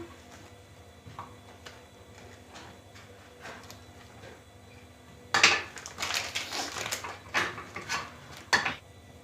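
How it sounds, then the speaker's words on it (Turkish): A knife cuts kashar cheese into triangles on a cutting board, quiet at first, then a run of close, crisp chopping taps and scrapes. "birkaç de kaşar doğrayacağım yanına."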